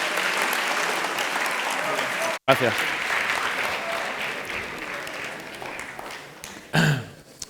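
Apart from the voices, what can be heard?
audience applause for someone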